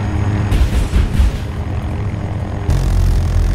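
An AH-6 helicopter in Battlefield 2042 roars loudly and close, its rotor and engine noise surging in pulses, then settling into a constant heavy drone.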